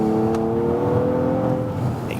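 A 2017 Nissan Maxima front-drive sedan with a CVT accelerating, its engine giving a smooth, steadily rising drone with a faint whine, close and loud, with no one talking.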